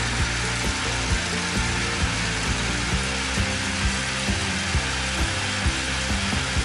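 A mixer grinder running hard while grinding dry bread into crumbs, a loud dense whir with regular rattling pulses from the jar, sustained without pause.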